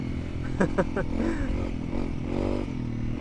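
A Honda CRF motorcycle rides along a road in Finland, its engine giving a steady close drone with a few short rattling clatters near the start.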